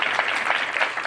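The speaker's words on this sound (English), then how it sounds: "could everybody join me in giving a warm round of applause?" Warm audience applause at an economic mobility summit in New York City, a steady patter of many hands clapping at moderate volume throughout the short stretch.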